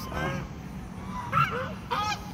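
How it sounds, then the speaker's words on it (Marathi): Geese honk close by outdoors, giving three separate nasal calls spread over a couple of seconds against a steady background hum. "पक्षी आलेले जवळ"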